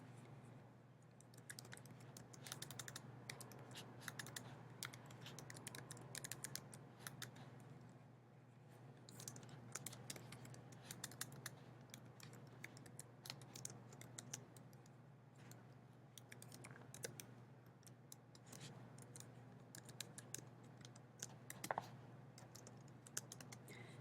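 Steady stream of computer keyboard typing, soft and close, with rapid irregular clicks continuing alone throughout at low volume over a constant background hum.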